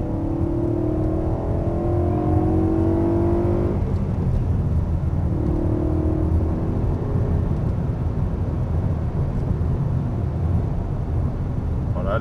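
A BMW M3 accelerates down a straight on the Michelin test track, its engine whirring and rising in pitch, then easing before a steady, loud rumble carries on with no one speaking.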